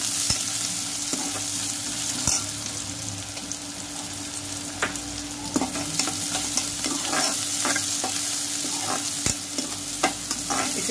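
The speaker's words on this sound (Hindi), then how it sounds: "उसी तेल में अपना जीरा और इलायची और प्याज डाल देंगे" Cumin, cardamom and onion fry in oil for a parwal sabzi, a continuous close sizzle broken by sharp spatula clicks and scrapes against the pan as the mixture is stirred.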